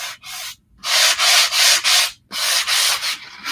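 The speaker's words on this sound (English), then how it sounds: "I think if I wanted to make it even more, I could do a little sanding." A wooden board is sanded by hand in steady back-and-forth strokes, a loud, close, gritty rasp repeating in a regular rhythm with brief pauses between passes.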